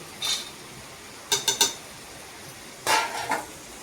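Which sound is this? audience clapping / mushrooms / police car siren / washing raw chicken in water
mushrooms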